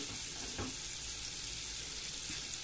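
Fish frying in olive oil, the pan giving a steady close hiss of sizzling oil throughout with a faint clink early on, no voices.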